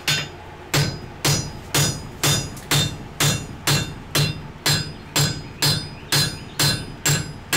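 Hammer forging wrought iron on an anvil while chamfering a scarf, a dozen loud ringing blows struck in a steady, even rhythm close by with no talk.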